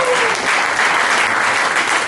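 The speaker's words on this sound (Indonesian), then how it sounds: "Tepuk tangannya juga." Steady, dense applause from a church congregation fills the whole stretch, loud and continuous with no voices standing out.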